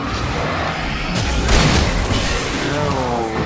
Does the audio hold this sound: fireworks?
yes